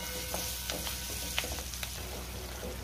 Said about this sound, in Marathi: आता टोमॅटो मी चांगला 2 ते 3 मिनिटं परतून घेणार आहे।